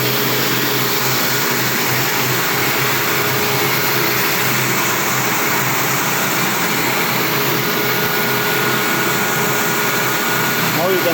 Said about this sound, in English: You can see how the turbine is rotating and it is giving the output.